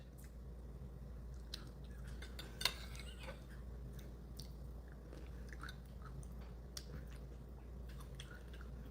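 A person chewing food, fish, with the mouth open, producing steady wet smacking and squishing sounds up close, with occasional sharper clicks over a low background hum and no talking.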